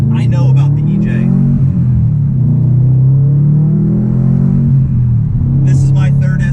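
A 2018 Subaru STI Type RA with its EJ engine gives a deep, steady low rumble from inside the car, running continuously beneath someone talking.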